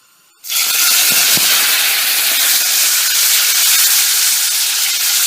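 Chopped tomatoes hit hot oil already spluttering with mustard seeds and dried chillies for a Tamil tomato kulambu, bursting into a loud, steady sizzle that holds from start to finish with no talk.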